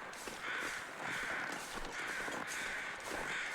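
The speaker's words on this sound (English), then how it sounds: "birds are loud." Crows cawing loudly in the snowy wilderness of the survival game The Long Dark, repeated harsh calls in a steady rhythm across the clip, close and prominent with no talking.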